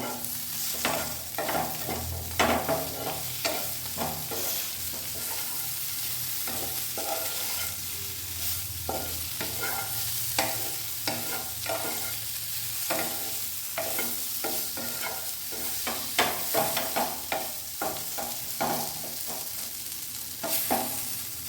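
Spiced potatoes frying in a pan while being stirred: a continuous close sizzle with repeated scraping and clinking of the spoon against the pan in an uneven rhythm, no talking.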